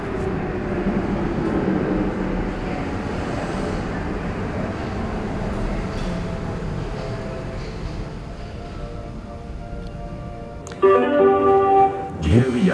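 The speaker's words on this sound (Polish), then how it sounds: "Budapesztańskie metro, no to nie są przelewki, jest to bowiem najstarsze metro kontynentalnej Europy." A Budapest M1 metro train, the oldest underground line in continental Europe, rumbles steadily underway, then a louder metallic screech or squeal rises near the end as it brakes.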